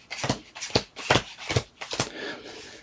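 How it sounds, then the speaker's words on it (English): Playing cards handled in a Klondike shuffle, giving six quick rhythmic riffling strokes about half a second apart, each a crisp papery burst, close and clear with no talking. "the Klondike Shuffle, which is what this is right here, the Klondike Shuffle"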